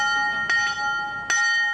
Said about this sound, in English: 4 times a day, this bell, still at the site today, was rung to signal beer breaks for workers.